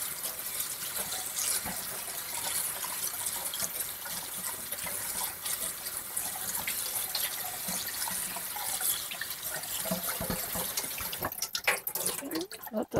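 Raspberries are rinsed under a running kitchen tap, giving a steady, close hiss of flowing water that splashes onto the fruit, with a few brief clatters near the end.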